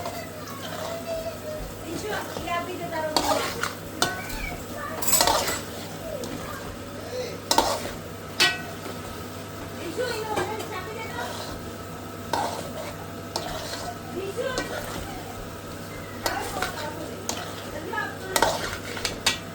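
A spoon scrapes and stirs manchurian around a metal pan in repeated bursts, with light sizzling and clinks throughout and occasional voices in the background.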